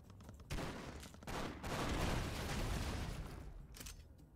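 Sustained minigun fire in the video game Expendabros, a dense continuous roar of rapid shots that starts abruptly, swells and runs loud almost without pause, with brief breaks in the stream.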